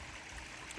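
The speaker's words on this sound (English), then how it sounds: "We have like 2 tiny waterfalls right here" Small trickling waterfalls spill over rocks into a large 6000-gallon backyard pond, a steady, faint, continuous splash and burble with no voices.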